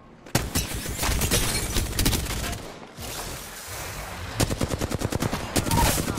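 Rapid automatic gunfire in Apex Legends played on PC, loud close bursts of fast shots with a short lull in the middle, then another sustained burst toward the end.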